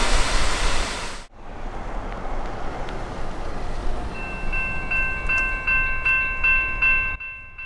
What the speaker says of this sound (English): the Grand Canyon Railway's 2A2 steam locomotive makes a rare outing from Williams, Arizona to the Grand Canyon